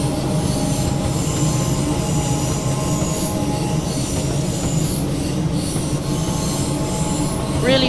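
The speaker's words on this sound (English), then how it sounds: "Wonderful train as it departs." A passenger train departs in the Train Sim World 2 video game, with a continuous loud rumble of wheels on rails and a rising squeal near the end, and no voices over it.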